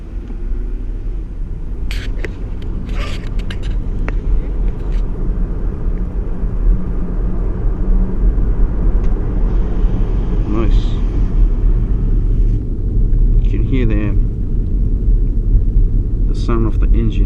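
A 2017 Toyota Kluger engine runs smoothly after an oil change, a loud steady low rumble heard from the car on a street with the window down, with a few faint high clicks and other noises passing over it.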